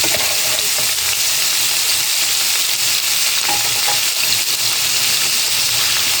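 Fatty ingredients frying in melted ghee in a pan while being stirred: a loud, steady, close sizzle with scraping stir sounds running throughout, no voices.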